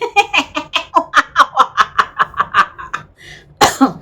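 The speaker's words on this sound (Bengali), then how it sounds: "কাশি উঠে গেল হাসতে হাসতে" A person laughs in a rapid, rhythmic string of breathy bursts that turns into coughing, close and loud, with a short pause before a final harsh cough.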